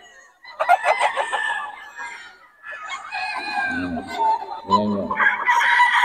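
A White Kelso rooster crows twice with loud, harsh calls, and someone talks over and between the crows close by.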